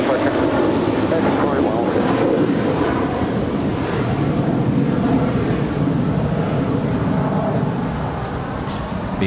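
American Airlines Boeing 777 airliner taxiing at LAX airport, a loud continuous jet engine roar with broadband rushing noise, steady then easing slightly, heard outdoors with wind buffeting and some voices.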